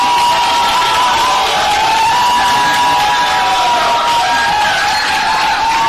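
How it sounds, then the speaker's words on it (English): An audience at a congressional candidate forum applauds and cheers in a sustained, loud wash of clapping and voices, with whoops rising over the steady roar for several seconds. "Ladies and gentlemen, can you hold your applause down, please?"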